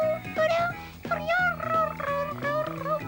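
A voice imitates a cat, meowing five or six times in a quick, steady series of drawn-out, wavering calls, close and clear.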